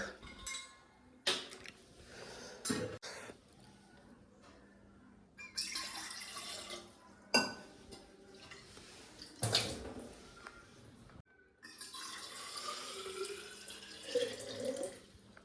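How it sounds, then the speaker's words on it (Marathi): Water bottle being filled from a kitchen tap: steady rushing, gurgling flow that starts and stops several times, mixed with clinks and handling noises, fairly close and moderately loud. "आता बाटली भरू भाई पटपट."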